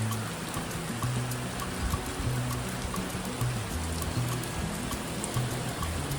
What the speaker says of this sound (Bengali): এখানে জলও পড়ছে, আবার পুরো ওপর দিয়ে জল পড়ছে।